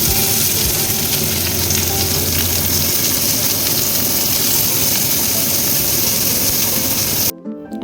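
Steady, loud sizzling of onions frying in hot oil, a dense crackling hiss that continues throughout before cutting off abruptly near the end.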